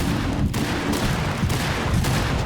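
Loud, continuous rumbling blasts and crackling bursts overlap densely, like rapid explosions in a chaotic firefight on the Favela map of Rainbow Six Siege X.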